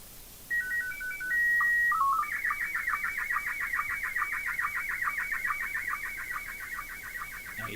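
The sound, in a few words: radio signal from the ISS received, sounding like fax machine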